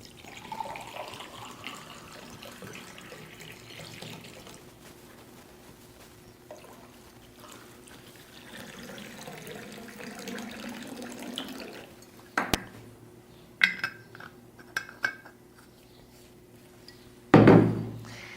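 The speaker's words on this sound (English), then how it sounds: "I have some water here. Let me serve your glass first." Water trickles as it is poured into glasses, followed by several sharp clinks and knocks of glass toward the end, close and moderately loud.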